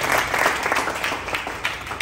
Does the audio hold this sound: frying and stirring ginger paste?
no